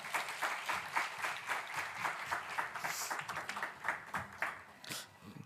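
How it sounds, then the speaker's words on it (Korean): A congregation at a Korean church worship service claps in warm welcome for a pastor, a dense, steady patter of many hands filling the room with no speech over it. "우리 큰 박수로 우리 전승현 목사님 환영하겠습니다."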